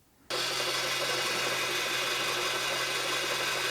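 An RCBS motorized case chamfer and deburring tool switches on abruptly and runs with a steady, even electric motor whir, close and constant with no voices.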